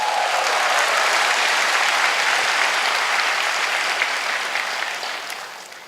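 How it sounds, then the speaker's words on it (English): Dense audience applause fills an entrepreneurship event hall, a loud sustained clatter of many hands that holds steady and then fades toward the end. "Give yourself a big round of applause."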